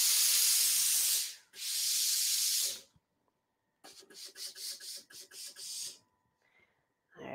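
A steam iron pressing open a sewing seam gives two long, loud hisses of steam, then a quick series of short, rhythmic steam puffs, close and with no talk.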